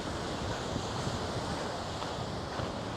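Steady wind buffets the microphone with a broad roar on the Fuerteventura coast at Caleta de Fuste, waves surging faintly underneath; no voices.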